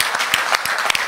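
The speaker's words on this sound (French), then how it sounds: "Est-ce qu'on peut les applaudir, nos enfants?" Church congregation applauding children, a brief burst of fairly loud clapping with distinct individual claps standing out in an uneven rhythm.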